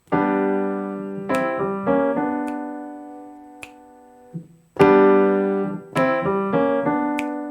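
Piano playing rich sustained gospel-style chords of "Joyful, Joyful" with a sliding grace-note feel, two phrases separated by a short pause, with light percussive attacks on each chord.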